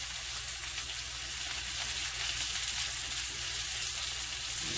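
A tuna steak sears in a hot pan, giving a steady, dense sizzle of frying that fills the clip at an even level, close and continuous, with no talk.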